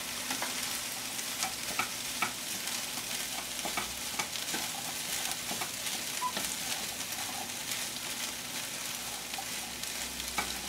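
Black-eyed peas heating in a pan with lemon are stirred and mixed steadily, a soft continuous sizzle under scattered scraping clicks of the spoon, close and even throughout with no talking.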